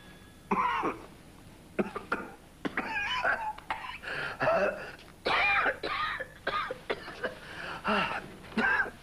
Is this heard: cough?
yes